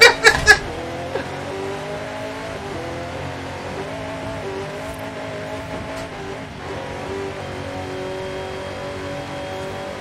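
A car in the video game Forza Horizon 5 runs a long cross-country race off-road, its engine droning steadily and shifting pitch through gear changes after a few sharp knocks at the start.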